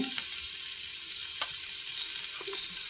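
Mustard seeds, cumin and garlic-ginger paste fry in hot oil, giving a steady close sizzle with a few sharp pops and crackles, no voices.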